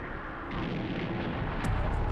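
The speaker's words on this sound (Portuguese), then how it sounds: "Em seguida, houve um estrondo ensurdecedor." A deep, rumbling boom of a comet impact rolls on continuously, heavy and loud, swelling slightly toward the end with no voices.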